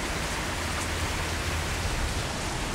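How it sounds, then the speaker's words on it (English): Rain falling in a mountain valley on the way to Mont-Blanc, a dense steady hiss of drops that is close and continuous, with no voices. "At least the rain is in the valley, so it's a bit warmer."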